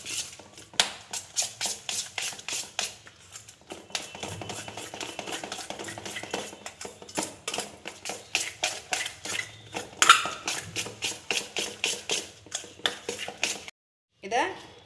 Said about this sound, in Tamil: இதை நல்லா கலந்து விட்டுடுங்க. முட்டை எல்லாமே ஒன்று சேரணும்.